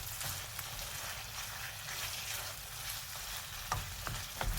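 Minced beef frying in a pan for keema curry, giving a continuous dense sizzle with occasional stirring scrapes and a few sharper clinks toward the end, close and fairly loud, with no voices.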